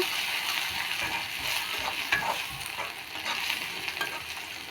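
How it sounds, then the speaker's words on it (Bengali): Onions and whole garlic cloves fry in a pan, sizzling steadily while a spatula stirs and scrapes them in soft irregular strokes close by. "দিয়ে দেব গোটা রসুন রসুন দিয়ে আবার ভালোভাবে ভেজে নেব"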